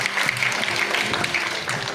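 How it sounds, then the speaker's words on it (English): Audience applause at a school English club activity, a dense, steady wash of many hands clapping, moderately loud and continuous throughout. "Let us give a big round of applause."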